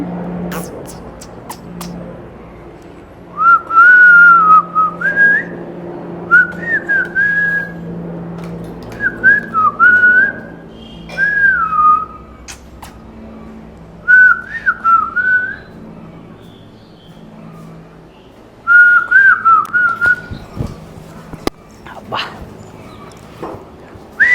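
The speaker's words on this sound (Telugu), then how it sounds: "ఏ ఈలు వేయద్దని చెప్పిన నీకు" At home, a person whistles short melodic phrases again and again in separate bursts over about twenty seconds. A dog whimpers and yips nearby, and voices murmur in the background.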